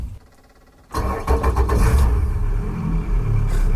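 Outboard motor on a broken boat on a remote off-grid island starting up, a faint quiet lead-in, then a sudden loud catch into a rough, steady close engine drone, with no talk.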